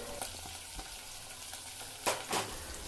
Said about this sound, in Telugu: ముందుగానే కట్ చేసుకున్న పచ్చిమిరకాయలు వేసుకోవాలి ఆ తరువాత సన్నగా తరిగిన ఉల్లిపాయ ముక్కలను వేసుకోవాలి